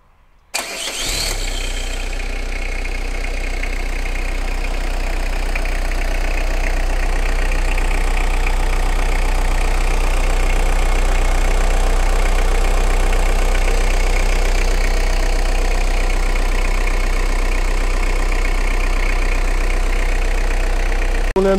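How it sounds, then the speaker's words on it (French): A Citroën Jumpy 1.9D diesel engine starts and settles into a steady, close idle after an oil change, a continuous low rumble with a faint diesel clatter holding for about twenty seconds. "on va le faire tourner un petit peu au ralenti tranquillement"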